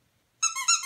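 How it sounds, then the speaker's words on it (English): The tail of a toy squirrel squeaks in two close, bright, squeezed pulses after a brief silence, loud and near. "Its tail squeaks."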